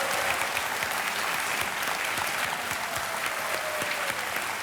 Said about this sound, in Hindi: एक बार फिर तालियां बज रहे हैं आपके लिए, और तालियां बजती रहें जोर से